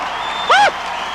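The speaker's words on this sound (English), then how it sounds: "And this crowd's going crazy" A crowd at a 1990 men's volleyball MIVA championship match against Ball State roars over steady applause, with a brief high whoop rising above the din.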